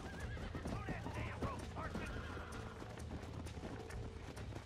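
In the video game Red Dead Redemption, a herd of horses gallops with a busy clatter of hooves, and sharp whinnies and neighs rise over it, loud and close.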